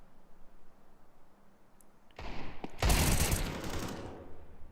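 Pistols fire during a Counter-Strike tournament match: quiet ambience gives way to a sudden loud report, then a dense, rapid burst of shots rings out before fading.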